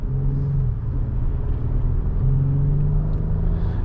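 A 2024 Acura MDX Technology with SH-AWD accelerates from inside the cabin, its engine giving a steady, moderately loud rumbling drone that rises in pitch partway through, with no talking.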